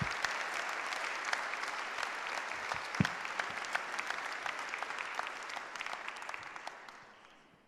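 Steady applause from the audience at a municipal council meeting welcoming a newly named councillor, a dense patter of clapping that holds evenly and then fades out toward the end.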